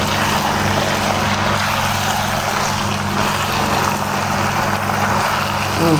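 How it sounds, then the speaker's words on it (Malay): A steady, loud mechanical whine and spray of a pressure washer running continuously on a car, with a broad hiss of water and a constant motor hum. "Ada bunyi abang guna water jet pakai kereta."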